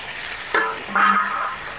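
Masala frying in a pan after a splash of water, cooked for a dhawai fish curry, gives a steady close sizzle with a brief clatter of stirring partway through.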